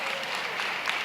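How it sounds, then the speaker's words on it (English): Luncheon audience clapping for a state senator, a brief, dense burst of many hands applauding at steady volume with no voices. "Another round of applause to the"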